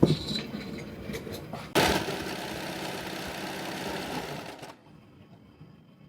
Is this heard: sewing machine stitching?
yes